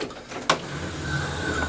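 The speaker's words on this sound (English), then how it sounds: "You slide one side in, and you feel it kind of click into place and close back up." The back cover of an HP LaserJet P4015 printer snaps into place with one sharp plastic click, close by, amid soft handling and rustling.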